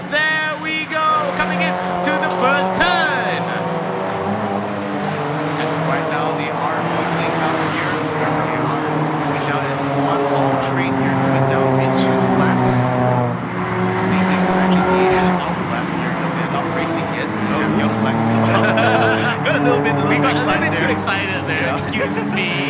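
Sporting class race cars pull away at the start of a race, several engines roaring and rising in pitch together, loud and continuous under a commentator talking throughout.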